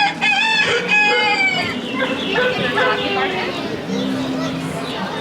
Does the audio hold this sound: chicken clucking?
yes